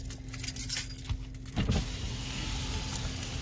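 A handful of keys jangling near a car as one is grabbed, a short metallic rattle in the first second and a half, then a steady vehicle hum with a faint electric window whir.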